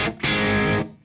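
A Mesa Boogie Dual Rectifier 100-watt three-channel amp on its push setting sounds a single distorted guitar chord, a loud, buzzy, bright sustained tone lasting about half a second after a brief lead-in.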